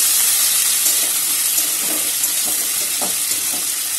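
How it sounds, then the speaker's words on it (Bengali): Onion and chopped tomato fry in a pan, a dense continuous sizzle with soft scraping stir strokes rising briefly through it, close and steady. "পেঁয়াজটা আধা ভাজা হয়ে গেছে, দিয়ে দিচ্ছি টমেটো কুচিগুলো। টমেটো কুচি দিয়ে নাড়াবে"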